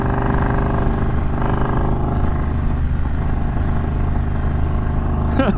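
Triumph Bonneville Bobber motorcycle under way: a loud, close, steady engine drone with a throbbing low rumble that holds evenly throughout, with no speech over it.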